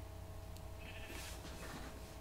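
Sheep bleat in the Minecraft video game, a faint wavering bleat rising over a steady low background hum.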